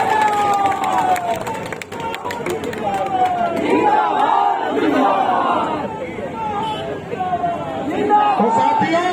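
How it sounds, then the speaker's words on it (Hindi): A large crowd at an NDA political rally in Jehanabad roars and shouts in welcome for Upendra Kushwaha, a loud swelling mass of cheers and chant-like cries with voices overlapping. "एक बार सभी लोग जोरदार ताली से बजाकर उपेंद्र कुशवाहा जी का स्वागत कीजिए"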